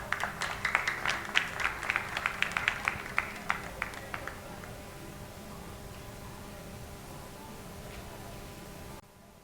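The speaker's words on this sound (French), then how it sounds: "On l'applaudit s'il vous plaît." A small audition audience in Port-au-Prince claps for young contestant Sébastien. A quick run of distinct claps fades within a few seconds into quiet room hiss.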